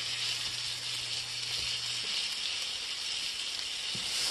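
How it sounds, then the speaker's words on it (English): A ready-made tortilla frying as Thai-style roti in a hot skillet, a steady close hiss and sizzle holding evenly throughout, with a faint low hum early on. "the tortillas are already ready to stick in the skillet"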